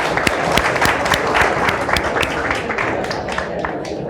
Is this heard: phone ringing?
no